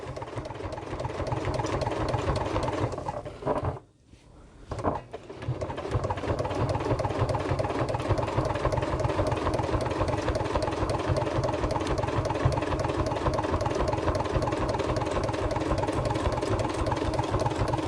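A sewing machine stitches slowly in reverse through thick, bulky fabric layers, a steady close mechanical hum and rapid clatter that pauses briefly and then resumes, with no talking.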